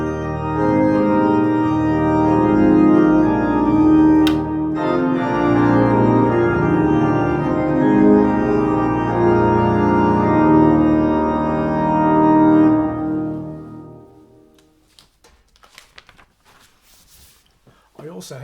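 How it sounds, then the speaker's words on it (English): A pipe organ playing the rousing end of a hymn with reeds and mixtures added, loud full chords sustained for about thirteen seconds before cutting off into near silence with faint rustling. "So you can add the reeds and mixtures."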